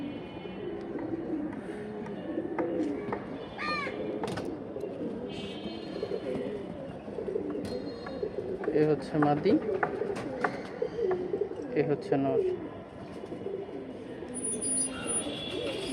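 A pair of silver pigeons, a male and a female, coo in repeated low rolling calls, with someone talking over them throughout.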